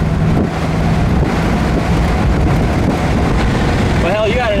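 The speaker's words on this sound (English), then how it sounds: "A little windy today." Loud rumbling wind buffeting a microphone over steady road and engine noise in a 1953 Ford Convertible at 60 mph on a windy day, with a brief higher whine near the end.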